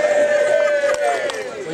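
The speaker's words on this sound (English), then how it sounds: "Big cheer, guys. Big cheer," A crowd at an outdoor awards ceremony lets out a loud, sustained group cheer and yelling lasting a moment, close and energetic with voices blending together.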